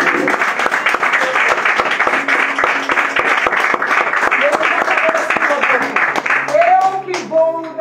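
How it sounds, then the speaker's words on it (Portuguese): A church congregation claps in a fast, steady rhythm, loud and close, while voices call out and sing over the clapping toward the end. "Pode aplaudir Jesus aí."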